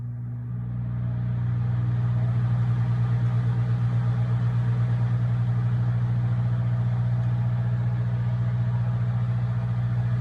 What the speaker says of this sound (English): and you'll start to hear the fan.